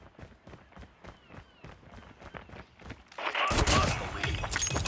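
Call of Duty gameplay gunfire: a run of sharp, evenly spaced shots cracks out at first, then swells into a loud, dense barrage of overlapping blasts and debris.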